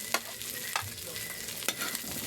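Carrots stir-fried in a pan for pancit bihon, a soft continuous sizzle broken by several sharp scraping stirs of the utensil, close and fairly quiet, with no voices.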